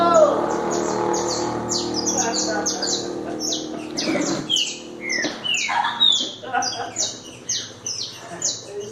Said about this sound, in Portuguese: É de que esse passarinho você tá filmando?